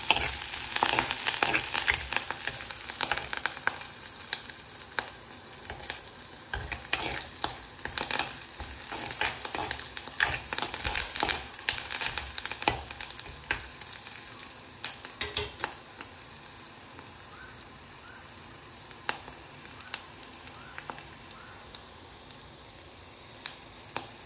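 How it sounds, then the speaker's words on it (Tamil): Curry leaves frying in hot oil for a tin fish curry, a loud steady sizzle and crackle with scraping spoon stirring throughout, no voices. "இப்போ நான் கறிவேப்பிலை சேர்க்குறேன்."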